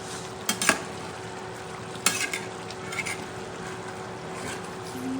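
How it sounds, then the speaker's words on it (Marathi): Sukka fry sizzles steadily in a pan at close range, with a few quick taps and scrapes of a utensil against the metal. "राशनाने मस्त सुक्क फ्राय बनवायला टाकलंय"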